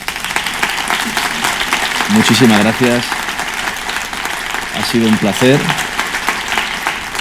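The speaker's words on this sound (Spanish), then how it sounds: "yo creo que se ha merecido un caluroso aplauso" An audience at an arbitration conference opening breaks into warm applause, two bursts of sustained clapping filling the room while a presenter speaks over it in Spanish.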